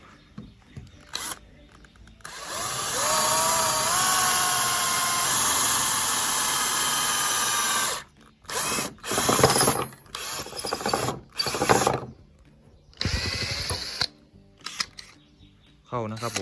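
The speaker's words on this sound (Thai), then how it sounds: "ต่อไปมาลองเจาะไม้กันเลยครับ" A Total TIDLI20031 cordless impact drill with a 6 mm bit bores into wood. A steady, loud motor whine runs for several seconds, then gives way to short bursts of drilling separated by pauses.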